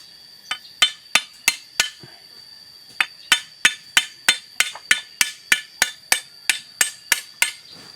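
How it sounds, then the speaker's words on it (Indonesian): A hammer knocks at a machete to remove its handle, about twenty sharp, ringing metallic strikes in a steady rhythm, split into two runs by a short pause. "tah ieu mah palu"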